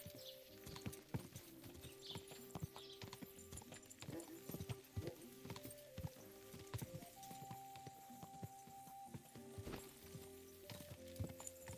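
Horse hooves clip-clop steadily in the medieval video game Kingdom Come Deliverance 2, with a busy layered game soundscape of tack, ambient tones and faint other noises around the continuous hoofbeats.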